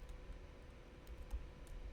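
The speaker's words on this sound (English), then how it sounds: "I'm just typing too fast trying to show you guys." Someone types fast on a computer keyboard, a faint scattering of light key clicks over a low steady background hum.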